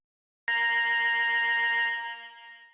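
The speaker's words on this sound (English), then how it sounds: "Then I added a lead which was complementing the string." A bright synth lead preset from a wavy type beat sounds one sustained tone with a buzzy harmonic edge, holding steady before tapering off, heard alone at moderate volume.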